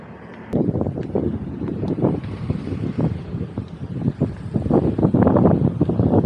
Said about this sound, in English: It's been a windy morning.